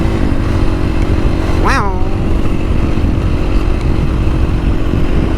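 Husqvarna 450 FS motorcycle with stock exhaust running close by, its steady engine note rising in one sharp rev burst midway, while a voice briefly exclaims.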